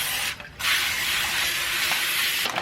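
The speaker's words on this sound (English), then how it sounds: "I'm going to spray both my pans with a little bit of nonstick cooking spray." Nonstick cooking spray hissing from an aerosol can onto baking pans, a steady close spray broken by a short pause, then a second sustained burst that runs almost to the end with no talking.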